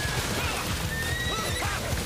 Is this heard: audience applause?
no